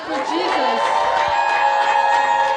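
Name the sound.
congregation clapping and cheering for Jesus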